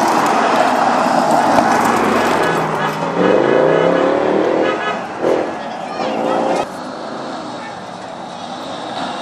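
A Ford Mustang at a Cannonball road-rally event in Ballyconnell approaches and sweeps past with a rising then falling engine note, while voices are heard nearby.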